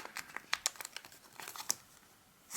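Origami paper folded and creased while shaping a ladybug model, close crinkling and crackling in quick irregular bursts, with a louder rustle at the end.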